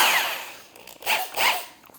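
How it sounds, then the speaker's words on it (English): A power drill fitted with a mixer whips up old stained glass cement, giving a loud close whirring burst at the start, then two shorter bursts of grinding, stirring noise. "I got it hooked up to the drill"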